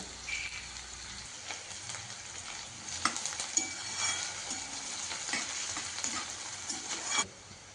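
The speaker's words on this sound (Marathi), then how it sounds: "कांद्यांना रेड कलर येईपर्यंत आपण परतवायचं आहे कांद्यांना" Onions sautéing in a pan for a Jalgaon-style brinjal bharit, with a steady soft sizzle and scattered clicks of a spoon stirring them, fairly faint and without talk.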